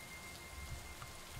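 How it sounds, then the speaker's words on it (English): Steady rainfall in the Superliminal video game, a soft continuous patter of drops with no voices. "it's either really raining in real life or I'm wetting the bed"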